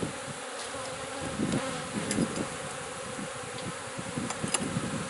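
Honey bees swarm around an opened hive during a beekeeping inspection, a close, steady insect buzz with individual bees droning past the microphone.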